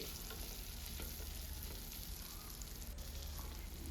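Curry leaves and other ingredients frying in oil in a pan for foxtail millet vegetable biryani, giving a steady low sizzle with faint stirring throughout, no talk.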